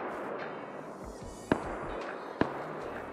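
Two sharp, separate shots from a semi-automatic rifle in the survival video game Rust, about a second apart, cutting through a steady murmur of in-game ambience.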